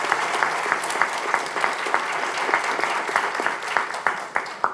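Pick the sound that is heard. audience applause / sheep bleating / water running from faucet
audience applause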